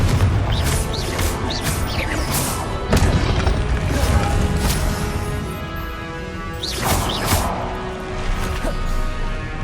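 Spell blasts from the Confringo fire spell in Hogwarts Legacy, a run of loud booming explosive bursts with whooshing tails, several in quick succession over a dense game soundscape.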